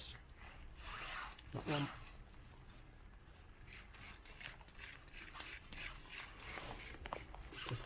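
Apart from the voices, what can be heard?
cleaning Kia Ceed brake caliper bolt threads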